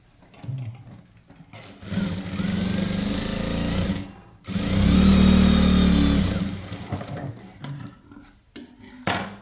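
A sewing machine stitches along a blouse lining, running in two sustained loud mechanical bursts with a short pause between them. Brief clicks come at the end.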